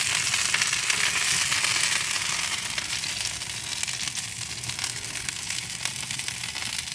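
A steak fries in tallow in a pan, giving a dense, continuous sizzle and spitting crackle that stays loud and close throughout.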